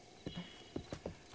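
Horse hooves clopping in The Legend of Zelda: Breath of the Wild, four or five uneven thuds over a quiet game background.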